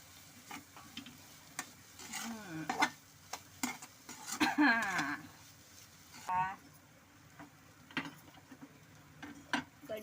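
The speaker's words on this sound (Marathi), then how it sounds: "आता घेतली आपण सगळे सुकट टाकून हलवून घ्या" Dried shrimp (sukat) stirred in a frying pan for a chutney, making scattered scraping and clinking strokes with light sizzling, while a voice talks intermittently throughout.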